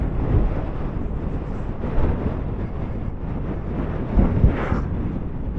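Strong wind buffets the microphone outdoors, a steady low rumbling roar with gusts swelling around the middle and near the end, no talking.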